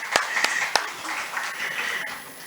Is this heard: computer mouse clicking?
no